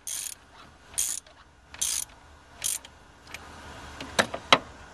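A ratchet tightens a fitting on a Mercedes-Benz diesel engine running on biodiesel: four short bursts of crisp clicking, spaced about a second apart, then several quicker, sharper clicks, close up in a quiet setting.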